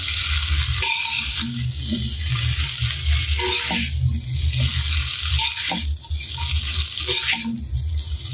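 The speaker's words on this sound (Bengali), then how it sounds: "ভালো মতো মিশিয়ে নুডলসটা ভেজে নিচ্ছি।" Noodles with salt being stir-fried in a pan, a loud continuous sizzle under repeated scraping and tossing of a spatula, with a few metallic clinks, close up.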